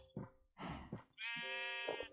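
Sheep in the Minecraft video game bleat in a few short, nasal, wavering cries close by, with brief gaps between them.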